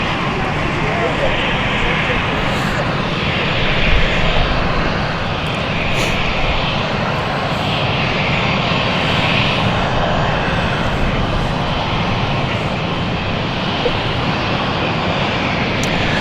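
Aircraft engines run at London City Airport with a steady, fairly loud roar and whine that swells gently in slow waves across the whole stretch.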